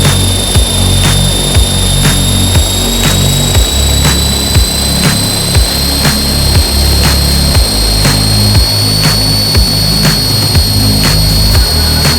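A DIY radio-controlled helicopter spins up for its maiden flight, producing a loud, continuous whining engine drone with a rhythmic rotor chop and a high turbine-like tone throughout. It is very close and steady, with no speech.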